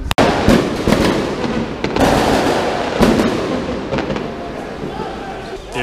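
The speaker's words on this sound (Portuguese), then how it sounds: "soltaram um foguetório agora que parecia tiro" Outside a football stadium in Gravataí, fans set off a long barrage of fireworks and firecrackers, with dense crackling and repeated sharp bangs over a loud crowd and voices.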